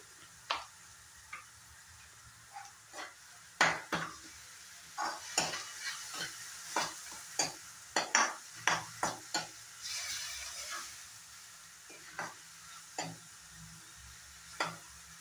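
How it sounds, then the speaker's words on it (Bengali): Onions fry in a pan for a paneer paratha with Kashmiri chilli powder and cumin powder, sounding as a soft steady sizzle broken by sharp scraping and tapping stirs that come in irregular bursts, close by and with no talk. "পেঁয়াজের জলটা শুকিয়ে যাওয়া পর্যন্ত আমি ভেজে নেব।"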